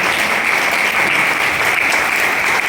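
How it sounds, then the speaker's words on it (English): Dense, steady applause from a large audience in a hall after a dance troupe's performance, a continuous even wash of clapping with no pauses or voices. "I think he deserves a very big hand"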